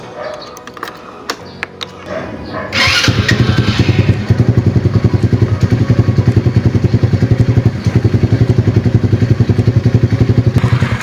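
Freshly restored motorcycle starts after a few clicks and settles into a loud, steady, rapid idle with an even, chugging rhythm, close to the listener with no talk.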